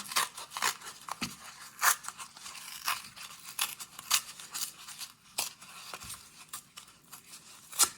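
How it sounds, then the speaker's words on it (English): Paper torn off by hand while making a template, heard as close, crisp ripping and crinkling in irregular bursts with sharp snaps, no voices. "I'm going to go ahead and tear it off and then cut it neatly."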